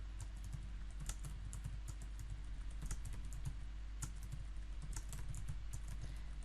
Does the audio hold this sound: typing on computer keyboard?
yes